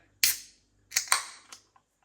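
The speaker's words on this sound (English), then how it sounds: "Nice bit of smoke on the can opening." A beer can of Deeds Lexicon Lager cracks open with a sharp snap and a hiss, then a second pop and fizzing bursts, close and clear in an otherwise quiet room.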